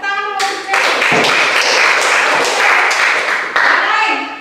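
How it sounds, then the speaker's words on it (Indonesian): A classroom group claps their hands together in a loud, dense burst of applause lasting a few seconds before fading out. "Tepuk tangan dulu untuk saya."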